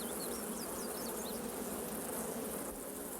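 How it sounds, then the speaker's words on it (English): A dense, steady swarm of honeybees buzzes at a beekeeper's hive yard, the drone loud and continuous throughout, with a few faint bird chirps on top. "This beekeeper uses smoke to stun the bees."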